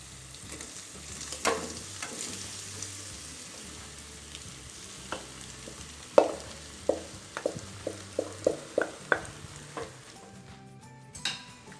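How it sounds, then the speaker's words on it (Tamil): Cooked rice being stirred into fried chili and tomato masala in oil for Tamil tomato rice, a soft sizzle under repeated scraping and clinking of a spoon against the pan, strokes coming in a quick irregular rhythm. "இப்போ அடுத்ததான் சாதம் சேர்த்து இதை கலந்துக்கலாம்."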